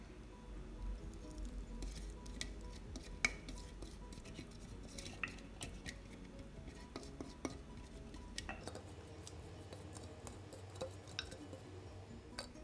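A spatula stirs vegetable fritter batter in a stainless multipurpose pot, making soft, wet squishing scrapes and occasional clinks against the metal, quiet and close, in an irregular rhythm that continues throughout.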